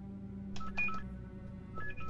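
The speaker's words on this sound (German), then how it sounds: "Telefon klingelt." An electronic telephone rings in the Deus Ex: Human Revolution video game, giving two short bursts of clear, beeping tones over a steady low hum.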